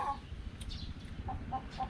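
Short, soft clucks from native chickens repeat a few times at a moderate distance, with faint chirps and low background noise between them.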